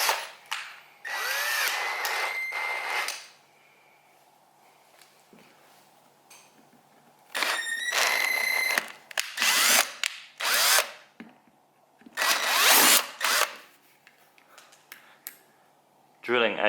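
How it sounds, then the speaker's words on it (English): A power drill with a 6.5mm bit bores into ABS plastic while fitting a cutaway mount, whirring in several loud, close bursts of a second or two, separated by quiet pauses. "Drilling ABS, it does want to grab, so just let it do what it wants to do."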